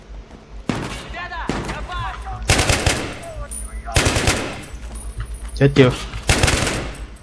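Bursts of automatic gunfire from the shooter video game Battlefield 3, heavy rattling volleys recurring through the clip at close range, with a voice speaking over and between the shots.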